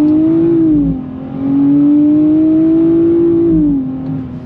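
A 2024 Nissan Z NISMO accelerating hard in second gear, its engine note climbing loud and close, easing briefly around a shift, then pulling strongly again before tapering.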